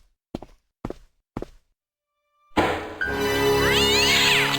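A fighting cat in Broken Sword: Shadow of the Templars lets out a loud, drawn-out yowling screech right after three soft thuds, the caterwaul sustained and close.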